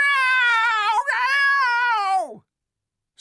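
A voice imitates a screaming cat, a long strained, wailing yowl that rises, breaks midway and then slides downward before cutting off into silence, loud and close.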